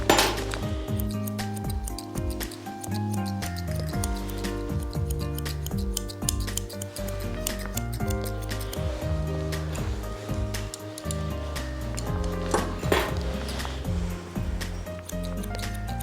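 Grooming scissors trim a Bichon Frise's coat with rapid, crisp metallic snips repeating throughout, set against a steady musical backdrop.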